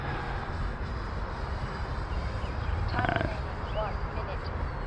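An L-39 jet practising landings on a runway in gusty wind: a steady, broad engine roar with wind buffeting that swells slightly midway, heard from close by.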